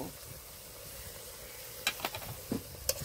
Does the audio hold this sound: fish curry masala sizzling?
yes